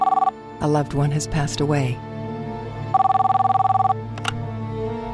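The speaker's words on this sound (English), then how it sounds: "A phone call in the middle of the night." A telephone rings with a steady electronic trill in two bursts, near and clear, around someone speaking, evoking a call arriving in the middle of the night.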